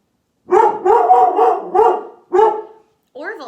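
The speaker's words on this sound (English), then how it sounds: "Is Marvin barking?" A dog barks repeatedly nearby, a run of loud barks in quick succession followed by a short howling yip after a pause.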